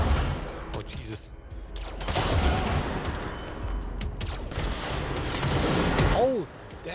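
Gunfire in the video game Control: Ultimate Edition, with repeated bursts of shots and booming impacts that rise and fall over several seconds, mixed with other game noise and a brief whooshing sweep near the end.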